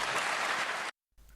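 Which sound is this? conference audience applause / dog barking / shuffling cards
conference audience applause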